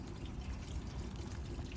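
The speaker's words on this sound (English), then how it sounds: "A lot more coolant is coming out now." Coolant drains from a BMW E36 radiator in a steady, low, continuous trickle and pour that stays even throughout, faint but close.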